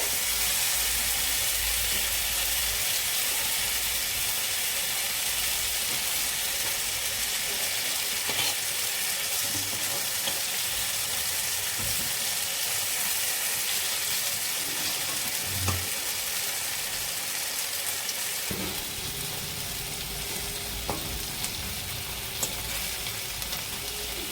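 Eggplant slices fry in a little oil with a dense, even sizzle that holds for the whole stretch, broken by occasional light clinks and scrapes of a utensil, and no voices.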